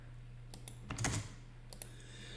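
Soft keystrokes on a computer keyboard while typing into a spreadsheet header: a few scattered faint clicks and a short quick cluster, quiet against a low steady hum.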